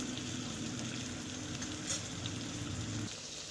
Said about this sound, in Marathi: यातच आपण घालणार आहे ओला मटार एक दोन मिनिट छान असं परतवून घ्यायचं